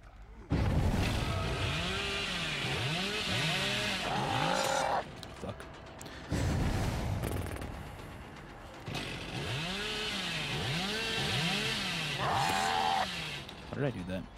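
A chainsaw in a horror video game revs repeatedly in rising and falling whines, loud and close, cutting out briefly midway before roaring again, with a player talking over it.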